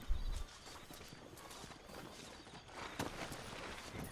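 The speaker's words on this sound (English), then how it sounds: "Come on, horse." Horse hooves clip-clop steadily in the Red Dead Redemption video game, a walking gait at moderate distance over faint background ambience, with a slightly louder stretch near the end.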